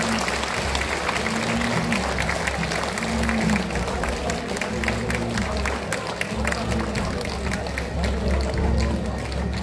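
A crowd at a Jinju bullfighting contest applauds steadily for a retiring champion fighting bull, dense clapping filling the scene while someone talks loudly over a public address system.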